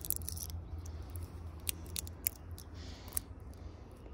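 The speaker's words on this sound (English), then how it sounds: "I'm gonna try to just use this and just, without going through the cable, just cut the insulation off." Sharp snips and slicing ticks as a blade trims insulation from a battery cable on a 1997 Dodge Ram 3500 12V Cummins diesel, a few isolated close clicks over a steady low hum.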